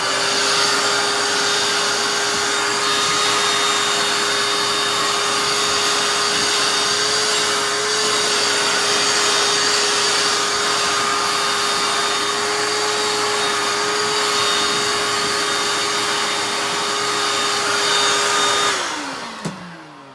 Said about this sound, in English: it's super easy to just grab the shop vac and give them a bit of a vacuum, and it takes anything that's clinging to their coat off